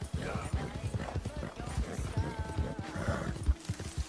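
Rhythmic hoofbeats of a galloping horse in the video game Red Dead Redemption 2, with a snort or whinny, under someone talking over it.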